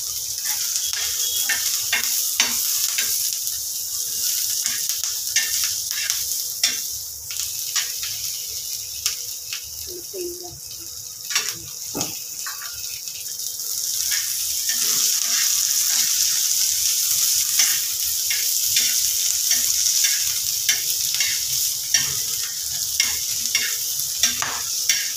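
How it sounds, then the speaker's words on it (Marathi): Garlic sizzles in a pan with green chillies as it is fried for a spicy chutney, with steady frying hiss and repeated scraping stirs of a spoon against the pan, no talking. "मिरचीवर लसूण पण परतून घ्यायचा."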